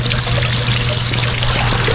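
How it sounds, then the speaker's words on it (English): Water spills steadily off the tiers of a three-stack fountain with a spruce base, a continuous close pouring and trickling wash with no pauses and no voices. "Then you have the sound of the water falling off"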